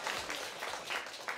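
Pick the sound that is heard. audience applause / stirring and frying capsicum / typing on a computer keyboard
audience applause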